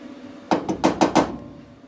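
A hammer strikes the new rocker panel on a 1965 Chevrolet C10 panel truck during rust repair, five sharp metallic blows in quick uneven succession, close and loud.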